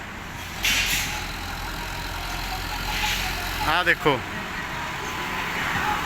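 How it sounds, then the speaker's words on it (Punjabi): A tractor engine rumbles steadily along the Bajakhana–Barnala road in Punjab, a low continuous drone with a brief spoken remark partway through. "ਆਹ ਟਰੈਕਟਰ ਹੈ"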